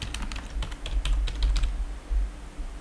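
Quick, uneven keystrokes on a computer keyboard as a password is entered, crisp clicking taps close by over a low background hum, with no talking.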